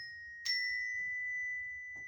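Bells from a percussion ensemble are struck once, ringing with a bright sustained tone that lingers, followed by softer taps, in a quiet room.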